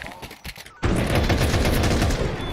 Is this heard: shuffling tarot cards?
no